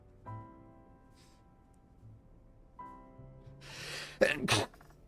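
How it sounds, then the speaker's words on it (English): A single loud, close sneeze bursts out at the end, preceded by a rising intake of breath, over quiet game music during a Pokémon Legends: Z-A playthrough. "I had to sneeze."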